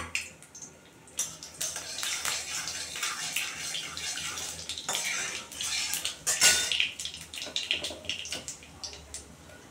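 Half a spoon of black cumin seeds hitting hot mustard oil in a kadai, giving a steady crackling sizzle with occasional clinks of a utensil against the pan, close and moderately loud.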